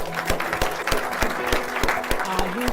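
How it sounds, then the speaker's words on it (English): Applause from an audience at a motivational talk, dense steady clapping close by and sustained without pause. "I want to really give you a round of applause because you've been an awesome audience"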